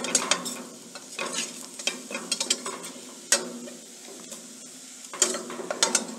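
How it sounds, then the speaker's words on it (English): A spoon scrapes and stirs a flour roux in a pan over low heat while making tomato sauce, a steady run of close scraping strokes with soft sizzling and no talk. "Keep stirring so that the flour does not stick to the bottom and ensure the heat is low."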